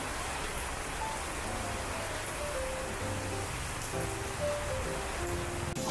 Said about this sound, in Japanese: 雨降ってる。